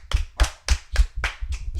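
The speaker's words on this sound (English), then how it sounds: "Everybody clap it up for Nusu." A small audience claps in a steady rhythm, about seven distinct near, firm claps in under two seconds, with no talking.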